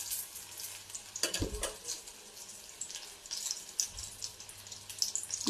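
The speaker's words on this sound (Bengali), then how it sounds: "দুটো দুটো করেই ভাজছি, আমার কড়াটা বেশ বড় না, বেশি বড় হলে একসঙ্গে কয়েকটা ভাজা যায়।" Batter-dipped pieces deep frying two at a time in a small wok, a continuous bubbling sizzle with a couple of louder splashing bursts as pieces are moved.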